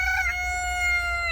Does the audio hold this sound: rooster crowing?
yes